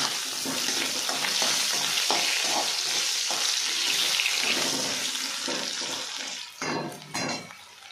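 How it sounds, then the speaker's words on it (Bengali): Nigella seeds crackle and sizzle in hot oil for a silver carp curry, stirred with repeated scraping strokes, close and steady, with a couple of louder clatters near the end. "একটু কালো জিরে ফোড়ন দিচ্ছি। সুন্দর করে নাড়বো।"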